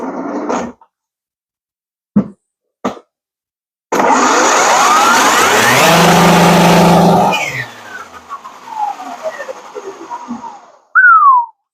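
A giant Cross RC EMO XX 4x4 RC car motor in second gear whirs up into a loud, steady, high whining howl that holds for a few seconds and then winds down, after a few brief knocks.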